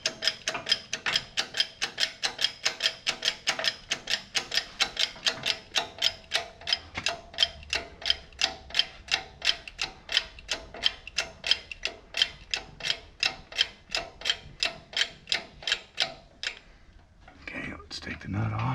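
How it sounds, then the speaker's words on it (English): An axle being pressed out of a KRX hub assembly, heard as a steady run of evenly spaced mechanical clicks like a ratcheting press or tool, repeating for many seconds before stopping. "going to press the axle out of the hub assembly"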